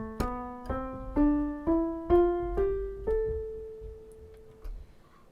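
A piano plays a white-note scale from A up to A, eight separate notes struck one after another at a steady, moderate pace, each ringing clearly and decaying before the next, heard alone.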